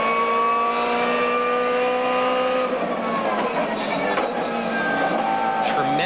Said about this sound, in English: Listen to how noisy it is inside those cars. Yeah, whining transmission. It's echoing inside that metal.